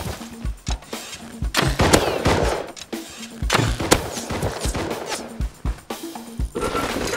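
Gunfire in the survival game Rust, a loud, dense run of rapid shots and bursts that fill the whole clip, with no talk over them.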